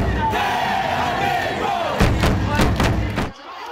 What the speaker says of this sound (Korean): 투지 넘치는 플레이에 후반전 들어 응원 소리가 점점 커집니다.